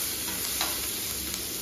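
Curry leaves sizzle in hot oil with a steady, close frying hiss, with a few faint stirring clicks and no voices.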